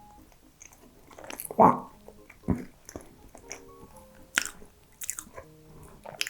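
Chewing and biting on a small matcha cream mochi from a Japanese convenience store, soft close-up mouth sounds with a few louder bites spaced irregularly over several seconds and a brief exclamation.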